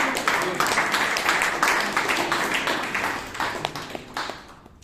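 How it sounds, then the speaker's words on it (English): Audience applause at a Toastmasters club meeting in Bangalore, a dense burst of many hands clapping close by that holds steady and then gradually thins and fades out. "Please give a huge round of applause."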